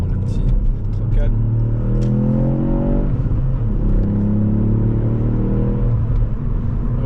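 Ford Fiesta ST 200 hp engine accelerating, rising harmonic whine climbing in pitch twice over a steady loud cabin rumble, close and continuous beneath a man's speech.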